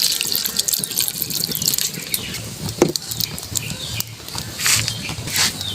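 Water runs and splashes steadily into a cooking pot, a small amount added to fish simmering with seasonings, a continuous hissing pour with a few brief clinks, nothing else prominent.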